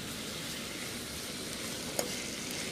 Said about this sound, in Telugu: వీటిని ఇలా డీప్ ఫ్రై చేసుకున్నట్టుగా చేసుకుంటే సరిపోతుంది